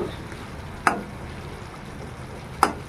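A spoon stirs jackfruit seed curry cooking in a pot over a low flame with the lid lifted. Two distinct scraping stirs, a couple of seconds apart, sound over a gentle, continuous simmering sizzle.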